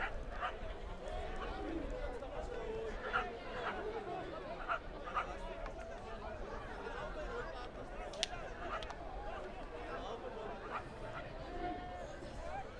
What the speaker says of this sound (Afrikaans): Ons het tot honde as besoekers hierin wat kom kyk en wat opgewonde raak oor die wedstryd